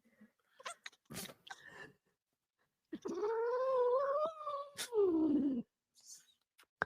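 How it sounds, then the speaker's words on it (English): A cat with a Christmas bow lets out a long, drawn-out yowling caterwaul close to a microphone, preceded by short sharp squeaks and chatter, with people talking around it. "That cat's gonna rip your face off, Alex."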